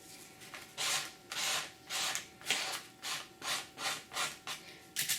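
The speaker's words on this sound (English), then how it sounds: "I'm just going to scrape the paint across." A flap of cereal box cardboard scrapes paint across paper, giving about ten soft, rhythmic rasping strokes at close range, each a brief scratchy swipe separated by short pauses, with no voices.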